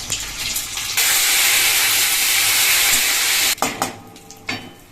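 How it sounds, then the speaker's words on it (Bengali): Dried red chilli, bay leaf, cumin and a little ginger spit in hot oil as the tempering for mung dal, a sudden loud hiss that holds steady for a couple of seconds and then drops to quieter crackles and stirring clatter. "মশলা লঙ্কা তেজপাতা ভাজা কমপ্লিট"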